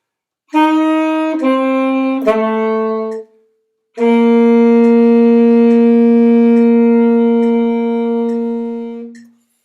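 A saxophone plays a short phrase of three notes, pauses, then holds one long sustained note that fades out; no talking.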